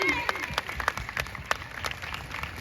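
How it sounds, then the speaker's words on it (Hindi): Crowd at an Azadi ka Amrit Mahotsav gathering claps steadily, a dense wash of applause with sharper individual hand claps standing out throughout. "तो एक बार तालियां तो बनती है ना, तालियां हो जाए"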